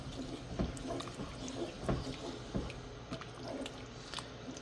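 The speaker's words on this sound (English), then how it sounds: "Give this a nice stir." A spoon stirring soup in a pot, giving wet, sloshing squelches with a few louder scrapes and splashes at irregular intervals, close and fairly quiet.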